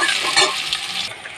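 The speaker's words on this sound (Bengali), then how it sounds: "এগুলো দিয়ে তেলের সাথে আগে ভেজে নেব।" Chopped onion and green chillies hitting hot oil, a bright sizzling hiss with a metallic clink near the start that fades slightly after a second, close and with no voices.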